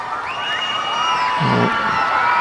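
A gymnastics arena crowd at the SEA Games rhythmic mixed apparatus event cheers and whoops loudly for the Malaysian team, a continuous roar with scattered shouts and whistles.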